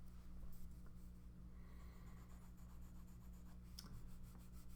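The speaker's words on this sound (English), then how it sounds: "you want to do it back and forth with the eraser until you get the shapes right" An eraser rubbing back and forth on drawing paper during a sketch, giving soft continuous scratchy strokes that are close and quiet over a low steady hum, with no voices.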